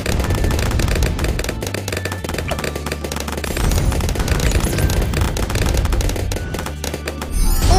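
Laser bombs firing in Bloons TD 6 with turbo damage active, a dense, steady barrage of rapid zapping blasts and booms that runs loud and continuous throughout.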